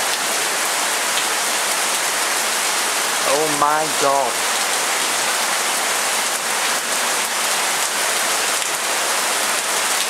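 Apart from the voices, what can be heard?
heavy rain on a rainy day in Thailand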